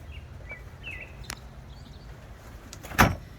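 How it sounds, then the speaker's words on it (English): A door on the full cab enclosure of a Honda Pioneer 1000-6 side-by-side is swung shut, landing as one sharp, close thump near the end. Small rustles and faint chirps sit in the quiet beforehand. "close your door"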